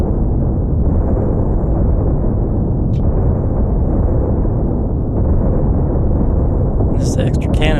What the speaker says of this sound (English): Another big barrage.